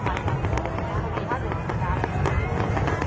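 Fireworks cakes launching and bursting over New An Thoi, Phu Quoc, for a city celebration: a dense, continuous crackle of rapid pops and booms, steady and fairly distant, with crowd murmur and people talking underneath.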